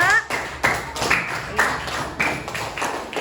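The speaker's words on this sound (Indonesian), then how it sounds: "gue tepuk tangan untuk kelompok 2" Fifth-grade elementary school students clapping for a group in class, a few bursts of hands clapping in uneven rhythm, close and fairly loud, with a voice heard faintly beside them.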